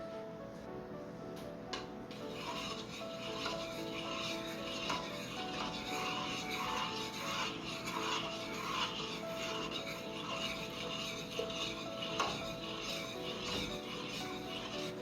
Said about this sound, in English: we're going to take just a regular spoon and